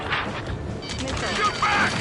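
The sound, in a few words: gunfire from video game Ace Combat 7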